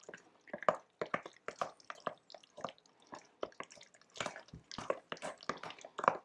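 Cheese filling for baked ziti being stirred in a bowl, giving soft, wet squishing and dripping sounds in a steady run of short, uneven strokes, close and fairly quiet with no talking.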